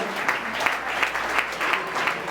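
A church congregation at a French-language worship service applauds and cheers loudly, steady dense clapping with rhythmic surges throughout, close and continuous with no talk over it.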